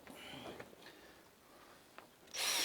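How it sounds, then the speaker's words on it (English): A power drill drives fresh replacement screws into the frame of an old polytunnel outdoors. Faint, quiet handling comes first, then a loud, sustained whirring burst near the end. "Johnny's just putting a few fresh new screws in"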